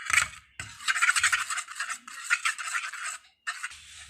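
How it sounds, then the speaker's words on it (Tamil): Homemade slime of Fevigum glue, salt and baking soda being hand-mixed, giving repeated close, sticky squelching and scraping strokes in bursts with brief pauses, no voices. "நல்லா மிக்ஸ் பண்ணிகிட்டே இருங்க 20 மினிட்ஸ் கிட்ட."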